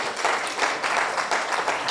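Audience at a distinguished public lecture breaks into steady, dense applause, a continuous wash of many hands clapping at moderate volume from start to finish.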